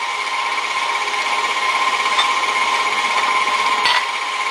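An electric mixer churns cheesecake batter in a bowl with a steady, loud motor whir that holds constant throughout, with a brief scrape near the end.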